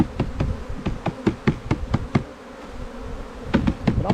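Live bees from a nucleus hive buzz close by in short, erratic bursts, several insects darting near and away with brief pauses between passes, with no talk over them.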